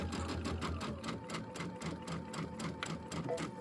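Sewing machine piecing quilt block fabric at a short 2.0 stitch length, running in a steady rapid rhythm of needle strikes, close and fairly loud, with no voices.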